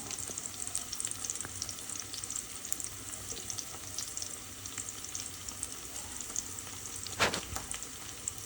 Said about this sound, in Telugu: ఆ పైన ఉల్లిపాయలు వేసి వేయించుకోవాలి.